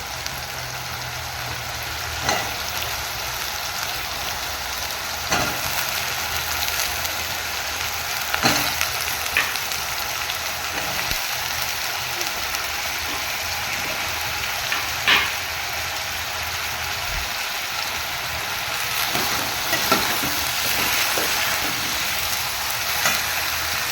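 Plantain and drumstick pieces fry in a pan for a pasi paruppu kuruma, giving a steady, close sizzle that runs throughout, broken now and then by faint clinks and scrapes of stirring.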